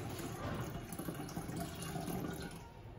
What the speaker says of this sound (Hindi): ये देखिए मिनिमम से मैंने ऊपर किया है पानी।